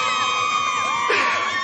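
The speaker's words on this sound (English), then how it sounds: "Let's give Stuart a big cheer" A stadium crowd at a rugby crossbar challenge cheers and whoops for Stuart, a brief loud swell of voices laced with shrill whistle-like tones.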